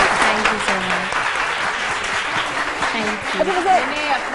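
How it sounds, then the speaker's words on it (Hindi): A studio audience on a morning TV show applauds a singing couple with dense, continuous clapping, while a voice speaks over the applause. "ये हमारा कपल बहुत अच्छा, इनके लिए तालियां।"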